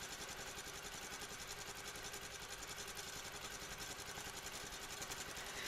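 A quilting machine runs steadily while stitching micro stippling, a continuous fast mechanical whir with rapid even stitch pulses, fairly faint and without talk.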